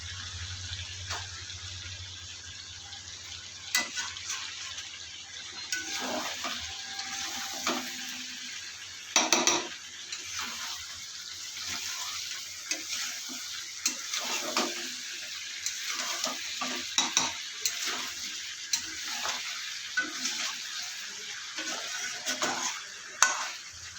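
Fried potatoes and eggs are added to a pan of country chicken curry: quiet, low sizzle with scattered clatters and scrapes of a spoon against the pan over a long stretch, a few louder knocks standing out.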